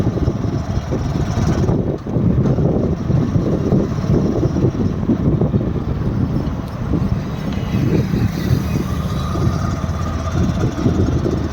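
A car engine runs roughly, giving a continuous low, uneven rumble with some wind buffeting over roughly eleven seconds.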